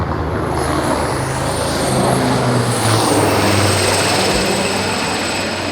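Super Lynx military helicopter hovering during a live-fire power demonstration exercise, a steady loud rotor and engine roar that holds throughout with no break.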